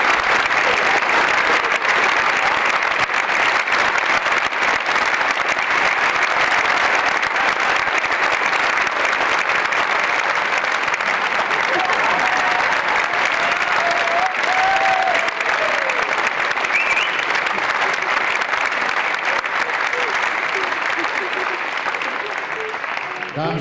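Theatre audience applauding the cast of the Dutch show Toen Was Geluk Heel Gewoon at a 2003 centenary event; dense, steady clapping sustained for over twenty seconds, loud and close, with faint voices and a few tones drifting beneath.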